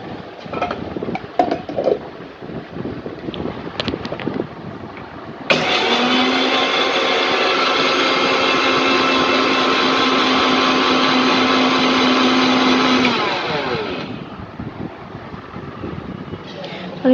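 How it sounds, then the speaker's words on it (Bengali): An electric blender grinds whole spices for raw mango pickle, starting abruptly with a loud, steady motor whine that runs about eight seconds before winding down; clattering handling sounds come before it. "সো ব্লেন্ডার আমি দিয়ে দিলাম।"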